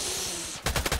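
Gunfire in the Contract Wars shooter game: a rapid burst of several loud, close automatic shots in quick rhythm, preceded by a steadier hiss of background game noise.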